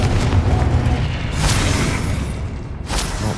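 A Confringo blast spell detonating in Hogwarts Legacy: loud booming explosive bursts, two sharper blasts about a second and a half apart, over a dense rumbling battle backdrop.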